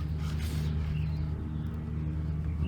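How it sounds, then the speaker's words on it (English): Steady low wind rumble buffeting a microphone outdoors, a continuous broadband roar with a gust swelling early, no voices. "Sorry about the wind"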